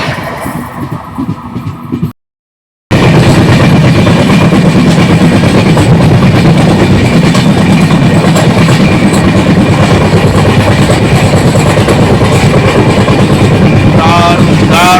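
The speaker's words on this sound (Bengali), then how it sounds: "ক্রস করছে 22155 CSMT কোলাপুর সুপারফাস্ট এক্সপ্রেস।" The 22155 CSMT Kolhapur Superfast Express passes close by, a loud, steady rush of wheels and carriages with rhythmic clatter that continues after a brief break near the start.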